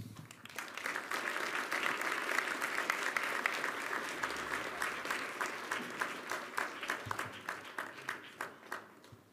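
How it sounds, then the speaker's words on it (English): Warm applause from a conference audience at the World Economic Forum after a special address by the UN Secretary-General, dense clapping that swells, holds steady and then thins into scattered claps near the end. "I think you also heard a warm applause"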